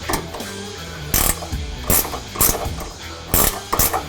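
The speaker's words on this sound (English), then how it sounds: "wrench to tighten this nut here on the back side down" A hand wrench ratchets a nut tight on the reverse-light bracket of a 2021 Ford F-150, with short clicking runs broken by several sharper metallic clanks, close and fairly quiet.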